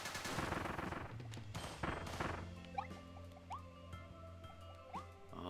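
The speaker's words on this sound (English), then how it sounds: "I have gun, might as well shoot gun." Gunfire in the video game Kirby and the Forgotten Land: a quick burst of rapid shots up front, then sparse pops and bright chiming effect tones, quiet overall.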